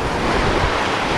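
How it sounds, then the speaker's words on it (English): Ocean surf of the South China Sea breaking close to the shore at Tanjung Lompat, Bandar Penawar, a steady, loud wash of waves with wind noise rumbling against the microphone and no voices. "I like to walk this area very close to the water, to the ocean. This is South China Sea."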